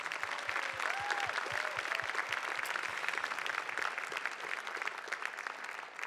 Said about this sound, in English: So please give Amy another round of applause.